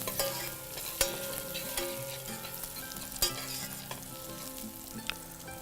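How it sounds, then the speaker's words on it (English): Ginger and garlic sauté in a hot pan, a steady close sizzle with occasional clinks and scrapes of a spoon stirring, no voices. "Give it a light saute."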